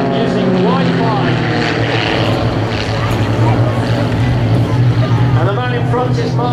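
A propeller plane at an airshow in Scotland drones overhead, a steady loud engine roar with wavering pitch, while someone talks over it throughout.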